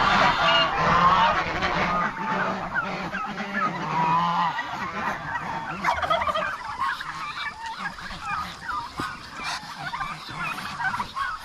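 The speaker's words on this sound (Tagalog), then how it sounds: "Yung mga pato natin nakalabas lang." Loud, close honking calls from a flock of ducks roaming loose outdoors on a Philippine farm, dense and overlapping at first, then thinning into scattered squawks.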